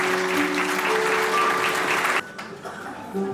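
Wedding guests applaud in a dense, steady burst of clapping that cuts off abruptly, followed by a brief quieter stretch with a voice.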